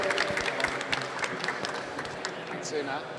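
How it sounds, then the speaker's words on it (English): An audience applauds at a London tech and AI pitch session, a dense wash of clapping at moderate loudness with voices mixed in. "Please give Una from Asoenia a big round of applause."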